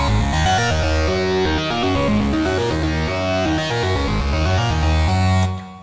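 Distorted synthesizer played through a guitar amp with a large modern spring reverb, built in Logic Pro: a loud, dense, buzzing, sustained tone with shifting notes that runs nearly six seconds before cutting off.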